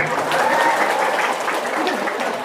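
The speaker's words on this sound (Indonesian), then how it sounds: "Tepuk tangan dulu." An audience at a Muslim women's gathering gives a continuous burst of applause, a dense patter of many hands with a few voices mixed in.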